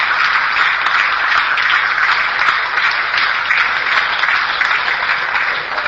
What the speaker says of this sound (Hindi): तालियों का क्या महत्व है,